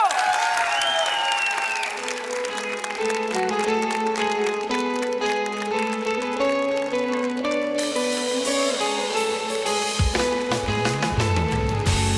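Sustained applause from a large studio audience welcomes a Turkish classical music singer onto a TV show stage, steady and loud, with music swelling under the clapping throughout.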